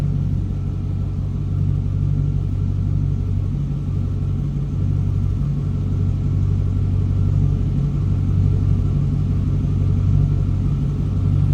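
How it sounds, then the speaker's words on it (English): A 2002 Chevrolet Camaro Z28 convertible idles steadily from behind the car, its deep, throaty exhaust rumbling loud and constant with no revving or talk. "Nice deep throaty exhaust note, but nothing crazy over the top."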